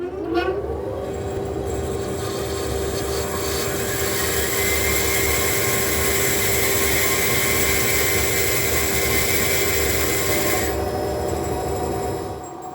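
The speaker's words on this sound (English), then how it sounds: "I'm ready to saw off the clamping blocks." A power saw runs loud and steady as it cuts off wooden clamping blocks, a continuous whirring rasp lasting several seconds before spinning down.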